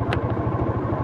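Modenas Z15GT motorcycle engine idling smoothly around 1000 RPM, a close, even low putter with a regular pulsing beat and a faint tick, heard alone without talk.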